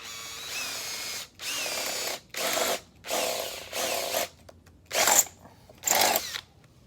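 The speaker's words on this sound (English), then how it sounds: "I'm gonna drill a hole down through both ends where they match." Power drill boring holes through a metal bed frame L bracket, several whining bursts of a second or so each separated by short pauses, close and loud with no talk.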